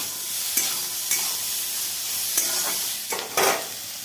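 Onion and cabbage frying in a pan for street-style egg rolls, with a constant close sizzle and a few scraping knocks from the spatula as the mix is stirred, and nobody speaks.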